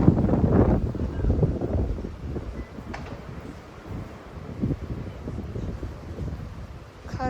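Strong wind blows outdoors near a yard and square, buffeting the microphone in uneven low gusts that rise and fall throughout.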